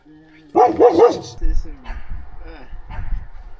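A burst of close, loud barking and yelping from three dogs, several overlapping barks in quick succession, then lower rumbling noise and movement sounds.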